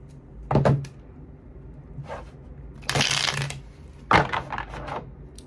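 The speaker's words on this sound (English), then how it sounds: "Let me go ahead and shuffle." Tarot cards are shuffled by hand in short riffling bursts: a quick flutter, a softer one, a longer bright riffle, then a final cluster of snaps and taps, close and clear with no talk.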